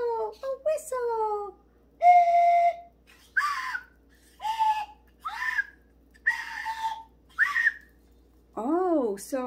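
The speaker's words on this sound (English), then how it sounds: "It's called a slide whistle." A whistle slides up and down in pitch through a series of short, rising and falling swoops separated by brief pauses, fairly close and clear.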